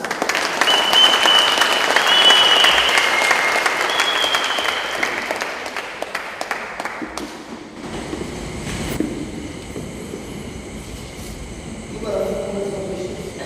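Church congregation applauding loudly for several seconds, a dense rolling clatter that fades out midway, after which a voice talks over a quieter room.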